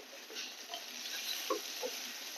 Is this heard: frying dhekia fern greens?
yes